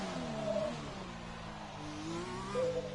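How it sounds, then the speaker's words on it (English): A race car engine that sounds rough, as if a gear was missed, its pitch rising and dropping unevenly through a sustained moderate drone during a race. "Oh, that engine sounds bad."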